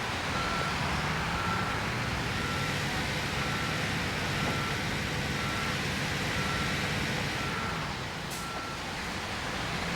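A heavy truck in the Construction Simulator video game idles with a steady, loud engine rumble, and faint intermittent reversing beeps sound over it throughout, with no talking.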